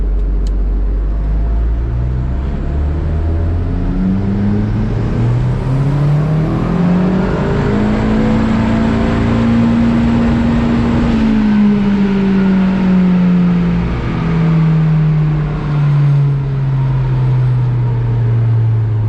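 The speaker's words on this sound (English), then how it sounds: "now I'm going to do full throttle, wait for it to stabilise like that, and then ramp up" A car runs at full throttle on a dynamometer, its engine note climbing steadily in pitch as it ramps up, then easing back down; loud, close and continuous, with no talking.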